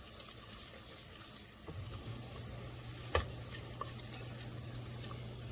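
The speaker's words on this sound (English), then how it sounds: "And stir this carefully because you don't want this popping on you." A roux for New Orleans-style gumbo is stirred in a pot on the stove, giving a quiet steady sizzle with faint scraping, a low hum and a single sharp clink partway through.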